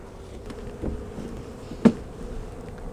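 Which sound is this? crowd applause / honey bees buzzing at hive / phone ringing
honey bees buzzing at hive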